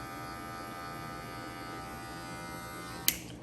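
Hair clippers buzz steadily at close range while fading a haircut, a constant electric hum followed by a short sharp click near the end.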